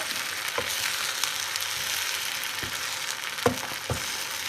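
Farz pitilig, a Breton batter, cooks gently in a pan with a steady, even sizzle throughout, broken now and then by a few soft clicks and taps of a utensil against the pan.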